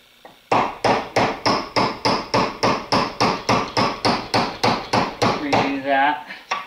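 A staked, tapered pin is hammered out of a clamped Volkswagen transmission housing with a fast, even series of about twenty sharp metallic strikes, loud and close. The blows blur into a rougher scrape at the end.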